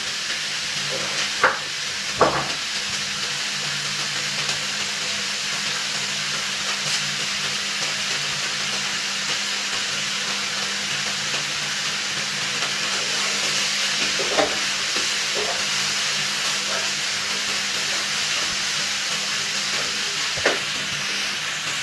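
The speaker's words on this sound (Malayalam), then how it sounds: "ഇതിലേക്ക് നമുക്ക് കുറച്ച് പച്ച കറിവേപ്പില ഇട്ട് കൊടുക്കാം" Fresh green curry leaves crackle and hiss in a hot pan of crab roast, a steady close sizzle running throughout with a few sharp pops and stirring clinks.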